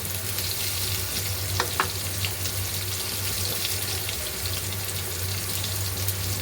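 Water added to a hot frying pan gives a steady, close hiss and bubbling that continues unbroken, with a low background hum throughout.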